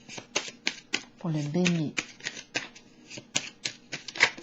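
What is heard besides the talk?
drawing and shuffling tarot cards from a deck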